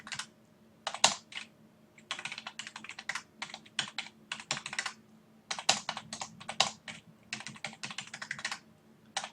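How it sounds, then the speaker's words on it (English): Rapid bursts of computer keyboard typing while data is keyed in, crisp clustered key clicks in irregular runs separated by short pauses, close and clear with no talking. "So what I'm basically doing now is just keying in what I see"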